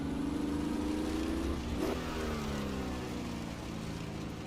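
A 1960s race car at the Zeltweg circuit in Assetto Corsa drones steadily under throttle, its engine note sweeping and shifting pitch midway as the driver tries to pick up power, loud and continuous throughout.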